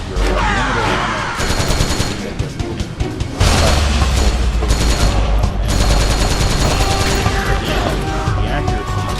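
M4 rifle gunfire in Metal Gear Solid 4, loud, dense bursts and booms layered over game music and effects, continuous through the stretch with a heavier surge partway.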